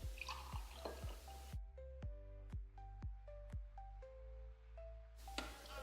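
Filtered water from a Chanson water filter trickles and drips in a test demonstration, a run of clear, evenly spaced drops and small splashes falling into a container close by, with a brief patch of other noise at the start and end.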